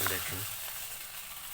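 Pitha batter of broken rice, lentils, onion and green chili hits hot oil and sizzles, a steady close hiss after a brief spoken word at the start.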